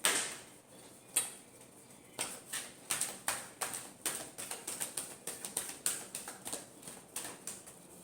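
Tarot cards are shuffled in a series of crisp, rhythmic flicks and taps, close by and fairly quiet, repeating steadily for several seconds.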